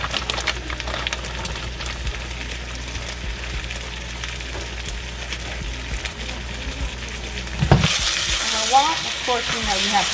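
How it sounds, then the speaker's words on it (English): Eggs and vegetables frying in a pan on high heat, a steady crackling sizzle that swells suddenly louder near the end as food is stirred or moved. "Just going to cook my egg, my veggies."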